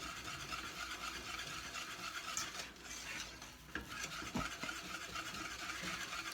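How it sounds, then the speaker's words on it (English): A powdered sugar mixture is whisked steadily in a bowl, producing a continuous soft scraping and rasping texture with a few faint clicks. "Just going to whisk this a bit to make sure that there are no real lumps in there."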